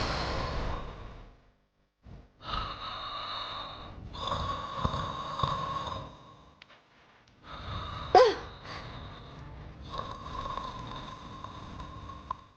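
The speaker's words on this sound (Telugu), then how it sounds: "ఈడు చూడు జలుబు చేసిన డైనోసార్ లెక్క గురక పెడుతుండు" A man with a cold snores heavily, with rough snorting, wheezing breaths repeating every couple of seconds, close and fairly loud in a quiet room.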